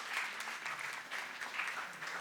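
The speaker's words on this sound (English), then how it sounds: "give them a huge round of applause" Applause from a school quiz bowl audience for the third-place team, a steady, fairly faint patter of clapping lasting the whole moment with a little speech underneath.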